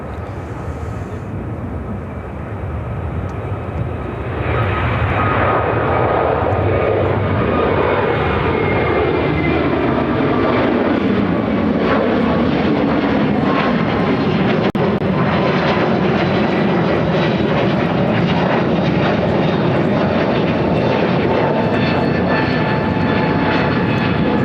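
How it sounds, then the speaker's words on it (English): An Airbus A321neo jet taking off at Chicago O'Hare swells into a loud, close roar after a quieter opening. The engine tone then sweeps downward as it passes, and the heavy rumble is sustained to the end. "Flight 2418 taking off on an A321neo to Phoenix."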